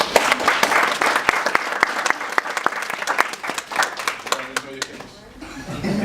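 An audience gives a round of applause, dense clapping close and loud with a few chuckles, thinning out near the end as a voice starts to speak.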